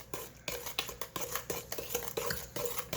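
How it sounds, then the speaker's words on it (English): A spoon works through apple cinnamon muffin batter after milk has been added, with quiet rhythmic scraping and knocks against the bowl repeating about twice a second, close and soft. "Mix this together."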